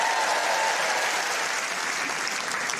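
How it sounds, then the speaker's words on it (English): A stand-up comedy audience claps together in sustained applause, a dense, steady patter that holds for a few seconds without letting up. "Round of applause"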